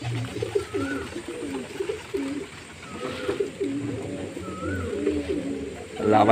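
Pigeons being fed grain in the afternoon coo repeatedly in low, throaty bursts, a flock nearby, with a few higher calls and faint background activity.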